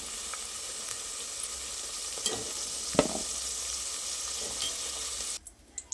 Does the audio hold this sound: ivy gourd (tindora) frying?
yes